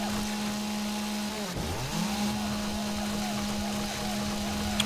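A chainsaw felling trees in the survival video game 7 Days to Die: one steady, droning engine whine that holds evenly through the whole stretch, with a brief dip in pitch partway through and no talking.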